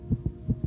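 Rapid lub-dub pulses of a small child's fast-beating heart, two quick double thumps, close, muffled and low, with a steady hum underneath and nothing else.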